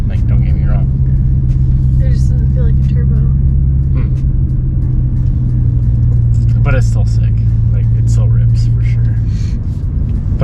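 Supercharged BMW M3 engine under hard acceleration, a loud, steady, close-up drone and rumble that holds throughout at high level.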